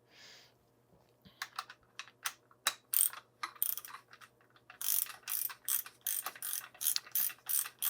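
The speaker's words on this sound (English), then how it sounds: "Screw them down. Always by hand. Never use a tool. These are fine threads." Fine-threaded parts of a Rockshox Pike Charger 3 RC2 bike fork damper are screwed down by hand, producing a run of crisp ratcheting clicks that start sparse, then grow quicker and louder.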